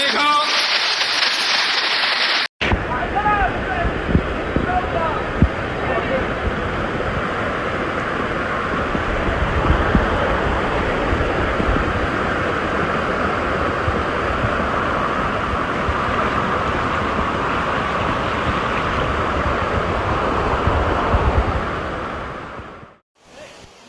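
Rushing floodwater in a waterlogged Changsha city street during heavy rain, a loud steady broadband wash that runs continuously for most of the span, preceded by a brief different noise at the start.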